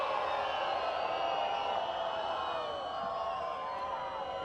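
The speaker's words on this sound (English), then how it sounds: "Crowd don't like it." A large crowd at a women's field hockey match between Argentina and Germany voices disapproval of a green card, with a steady dense roar and murmur filling the arena at an even, moderate level.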